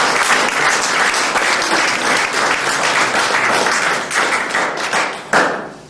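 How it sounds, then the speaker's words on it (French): An audience at a community awards ceremony gives a sustained round of applause for a Protestant parish. The dense clapping stays steady, thins slightly toward the end and closes with a few sharper, louder claps. "On peut applaudir la paroisse protestante aussi."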